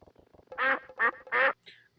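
A stream alert plays a cartoonish duck sound: three loud, nasal quacks in a steady rhythm, then a brief squeak at the end, clean and isolated after faint ticking.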